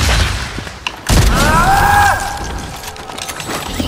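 Gunfire in a video game: a loud boom and a burst of sharp shots around the one-second mark, followed by mechanical clicks and ringing tones, with no talking.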